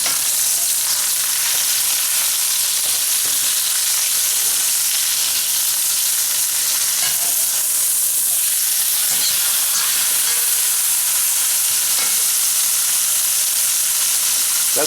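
Beef for Italian beef browns in a hot pan, giving a loud, continuous frying hiss and crackle that holds steady throughout, with no voices.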